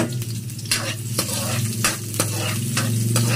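Garlic sautés in a pan with onion for Filipino pinakbet, a loud close sizzle broken by regular scraping stir strokes about every half second.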